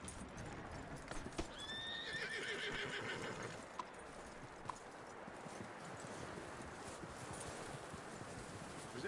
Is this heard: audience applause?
no